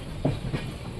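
A Mumbai local train runs at night, a close, continuous rumble with a couple of soft rail clacks within one second.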